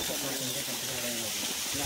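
Water from a newly started borewell pump motor gushes in a loud, steady, broadband rush that fills the whole moment, with no pauses.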